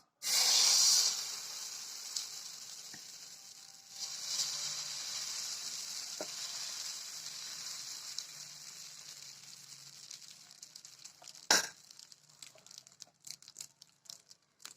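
Coconut dosa batter hits a hot griddle rubbed with onion, giving a sharp loud hiss at first that settles into a steady, quieter sizzle, with a few clicks and a brief knock later on.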